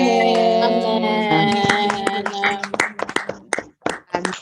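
A church congregation claps in praise. Sharp, irregular hand claps come in after sustained singing tones and grow into scattered, close applause that fades in and out, with a voice heard briefly.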